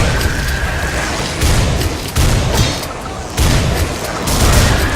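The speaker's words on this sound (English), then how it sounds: "like, beginner weapon, shotgun's fucking potent" Shotgun blasts from a beginner weapon in the game Butcher crack out loudly at irregular intervals, four or five heavy booms over a dense, noisy background of action.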